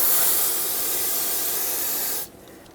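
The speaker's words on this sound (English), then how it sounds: "Use some brake parts cleaner if needed to rinse off the brake fluid" Brake parts cleaner sprayed onto a rear brake hose of a 2011-2016 Ford F-350, one continuous loud close hiss lasting about two seconds before stopping abruptly.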